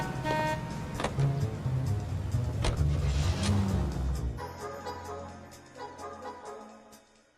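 Car in an LAPD detective video game pulling away, a low engine rumble with rising revs that cuts off abruptly midway, leaving quieter ambient sound with a faint hum.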